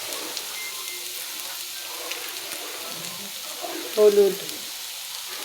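Spices with salt and turmeric fry and get stirred in a pan, giving a soft, steady low sizzle throughout, with a brief spoken word near the end.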